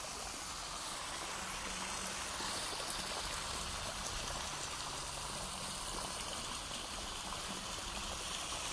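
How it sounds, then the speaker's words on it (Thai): Liquid compost made with pig manure pours and flows along furrows in a bamboo seedling garden. It makes a steady, even rushing and trickling wash throughout, moderately distant, with no voices. "เทราดใส่ร่องนะครับตามร่องนะครับแล้วก็ให้ไหลนะครับตามร่องไปทั้งแปลงนะครับ"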